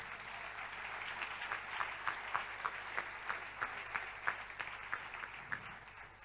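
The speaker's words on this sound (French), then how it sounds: "On peut acclamer le Seigneur." A church congregation applauds, a steady rhythmic clapping that fills the room and keeps going at a moderate level.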